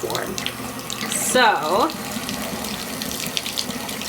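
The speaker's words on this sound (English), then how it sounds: "I am going to make sure that this water is lukewarm." Water runs from a tap into a container that will be used for watering houseplants, a close, steady gushing and splashing that holds throughout, with a brief word spoken over it.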